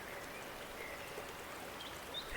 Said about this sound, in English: the gentle murmur of a nearby stream.